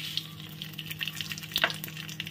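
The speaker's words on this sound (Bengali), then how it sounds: "আর এখানে হচ্ছে দেখো রাঁধুনি আর সর্ষে ফোড়ন" Radhuni and mustard seeds tempering in hot oil in a home kitchen, a close steady sizzle scattered with sharp popping crackles and one brief louder burst.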